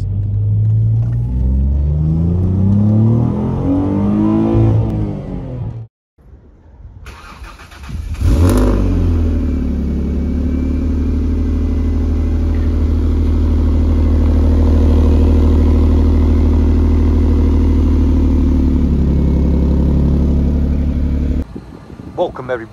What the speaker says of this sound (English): Today we've got a Ford Mondeo ST220.